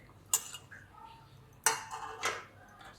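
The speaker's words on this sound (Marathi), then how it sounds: "आता हे सगळं मी मिक्स करून घेते" Sweet corn thalipeeth batter with onion, green chilli, coriander and turmeric being mixed in a bowl: two or three soft clinks of a spoon against the dish, close and quiet, with faint shuffling between.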